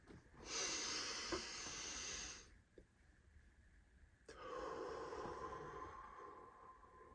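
Slow, deep breathing during a guided breathing exercise: a long steady inhale-like rush for about two seconds, a quiet pause, then another long sustained breath, close and clear with no talking.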